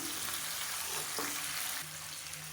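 Onion, mint and coriander sauté in a hot pan for a kohlrabi chutney, giving a loud, steady hiss of sizzling oil that runs unbroken, with a faint stir partway through.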